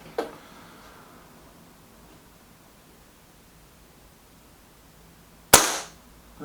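A single sharp, loud crack from a BSA Defiant air rifle firing, heard close, with a faint earlier click and quiet background otherwise.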